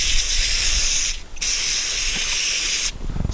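An aerosol cleaner sprays white gas stove parts in two long steady hissing bursts, loud and close, with a brief pause between them and small clinks at the end.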